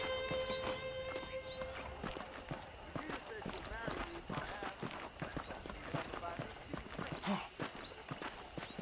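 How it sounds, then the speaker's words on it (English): Saddled horses in Red Dead Redemption clip-clopping along with an occasional neigh, steady hoofbeats under near-constant male dialogue and light background music. "The horses are saddled up over here."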